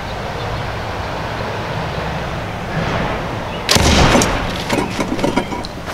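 An archery field-point arrow strikes a metal flipper pellet-gun target outdoors, giving one sharp, loud impact with a brief metallic ring that decays over a steady background hum.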